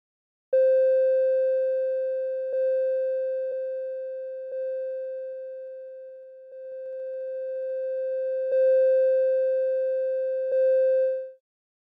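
Synthesizer oscillator produces a steady pure tone while its level control is turned, the volume swelling and dipping, with small clicks at a few points and silence at the start and end.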